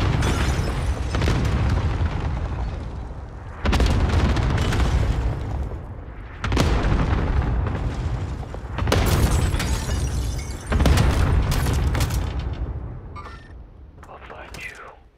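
Video game airstrike explosions, several heavy booming blasts arriving in waves one after another, loud and close, with players talking over them.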